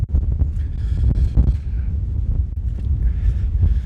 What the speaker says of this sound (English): We decided we're not going to camp up here as it's way too windy